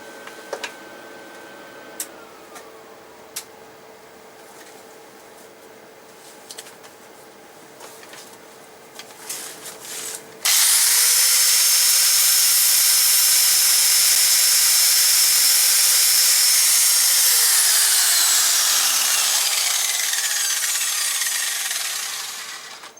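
Angle grinder on metal: faint clicks and a steady tone at first, then a sudden loud, close, sustained high grinding roar for about ten seconds that slowly winds down in pitch as the disc spins down.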